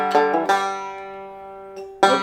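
Bluegrass banjo kickoff lick picked alone and close: a quick open third and open fourth string pluck, a hammer-on, then another bright attack, with ringing sustained notes between.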